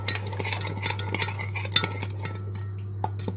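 Sugar is stirred into a banana custard pudding with a spoon in a pan. Soft scraping and light clinks repeat over a steady low hum, close up and without speech.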